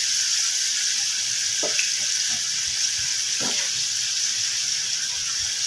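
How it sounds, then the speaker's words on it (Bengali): Water from a rinsed sweet bowl poured into a hot pan of lau ghonto, a steady hissing wash of liquid with a few soft splashes and clinks, close and unbroken, no voices. "এখানে আমি মিষ্টির বাটিটা ধুয়ে একটু জল দিয়ে দিলাম"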